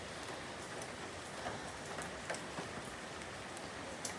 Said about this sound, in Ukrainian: І зараз знову почався дощик, я стою на своїй терасці.